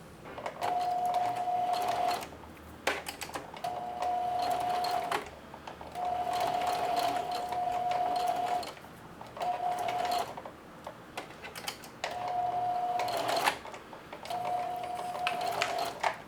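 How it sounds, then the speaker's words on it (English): A sewing machine runs a straight stitch while attaching apron straps, whirring in several bursts of a few seconds each separated by short pauses, close and steady with no speech. "What I'm going to do now is straight stitch all the way down the length."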